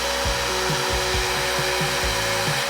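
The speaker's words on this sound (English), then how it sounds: "I get the shop vac and vacuum up all the dirt and grime left behind from the carpet." A shop vac vacuuming dirt and grime from a stripped car floor, a loud steady motor whine with rhythmic scraping and sucking pulses as the nozzle moves over the floor, no speech.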